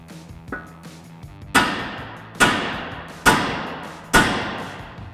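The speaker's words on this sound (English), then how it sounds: "grab ourselves a hammer, give a few taps on our seating point here for our ball joint" Four sharp metallic hammer taps on a ball joint seat in a Dodge Challenger's front upper arm ring out at even intervals, each with a short ringing decay, preceded by a couple of faint clinks.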